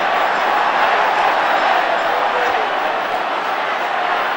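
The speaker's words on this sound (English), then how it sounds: "difficult to hear yourself think above this crowd now" Dense, roaring football crowd at a 1970s Manchester derby between City and United, a loud continuous wall of cheering and chanting with no breaks, filling the whole stadium.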